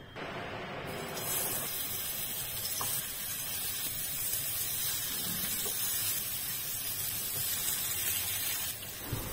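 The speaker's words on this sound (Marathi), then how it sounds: "कापांच्या साईडने थोडं थोडं तेल सोडूया. दोन्ही साईडने छान फ्राय करून घ्यायचे." Spiced banana slices frying in a little oil in a frying pan over medium heat, a steady close sizzle and hiss that runs unbroken without talk.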